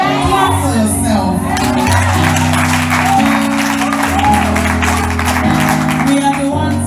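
A women's church gathering in Kenya breaks into loud, continuous clapping and shouting, layered over sustained low keyboard chords that shift in pitch throughout.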